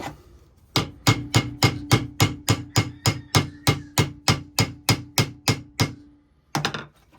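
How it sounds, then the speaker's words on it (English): Steady hammer blows strike metal on a military fixer-upper under restoration, about twenty evenly spaced ringing hits in a close, loud run, then a brief pause and a final pair of strikes. "You gotta keep hammering it back down."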